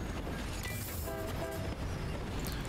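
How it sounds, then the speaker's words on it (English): A train runs in the rail-building video game Railgrade: a steady rolling rumble with a brief horn-like tone in the middle, loud and continuous, with no voices. "Now we're going to get another train going here."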